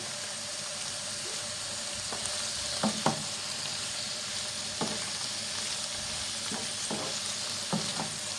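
Foraged chicken-foot mushrooms fry in a generous splash of oil, a constant close sizzle broken by several sharp scrapes and knocks as a utensil stirs them around the pan.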